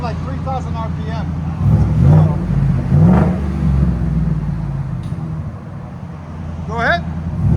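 A 5.0L V8 in a 2021-or-later Ford F-150 revs through an aftermarket muffler, a deep close rumble that rises and falls in a couple of throttle pulls while people talk over it.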